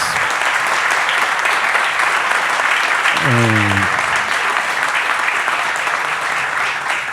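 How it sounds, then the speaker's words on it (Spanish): Steady audience applause at a citizens' panel discussion on schooling fills the whole stretch, loud and continuous, with a brief voice rising over it midway. "Para cerrar, un aplauso, por favor, para nuestros panelistas"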